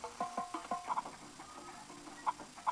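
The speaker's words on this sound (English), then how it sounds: "here are more of those weird swamp chickens that we saw in the home world" Several short clucks and swamp chicken calls from the game Spyro the Dragon come in quick bursts, then pause and return, sounding fairly clear over a quiet background.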